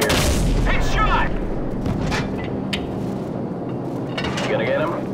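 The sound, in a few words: AC-130 gunship cannon fire, Call of Duty 4 video game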